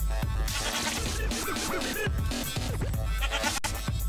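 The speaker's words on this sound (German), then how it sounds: "Ziegen." Goats bleating in the Minecraft video game, several short wavering bleats scattered across a dense, busy game soundscape with scratchy background noise.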